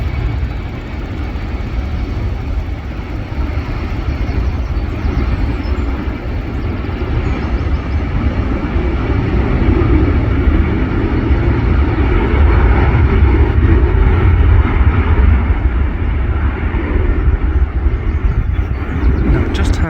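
An EasyJet airliner landing at Manchester Airport, heard as a loud, steady broadband jet roar that holds for the full span with little change in level.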